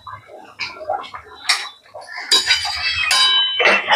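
A spoon clinks and scrapes against a pot while shrimp and pointed gourd korma is stirred, with kasuri methi just added; a run of bright metallic taps and rattles, close and fairly loud, with no talk.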